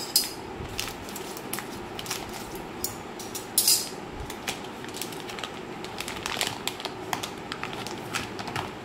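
Plastic packaging on a pickle pack is cut open, giving a run of crisp crinkles and small sharp snips and clicks close by, with one brighter rustling burst partway through.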